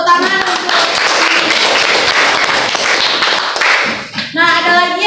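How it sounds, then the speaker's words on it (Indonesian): A classroom full of students claps loudly and steadily for several seconds, the applause dipping briefly before rising again near the end. "Tepuk tangan untuk."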